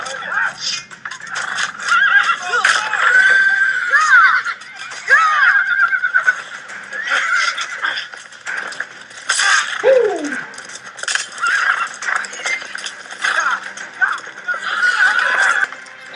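Horses whinny repeatedly in a Game of Thrones scene, shrill neighs rising and falling over scattered hoof clops, with people talking over much of it.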